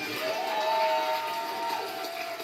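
A crowd applauds with scattered cheers and whistles, a steady wash of clapping that stays fairly loud throughout.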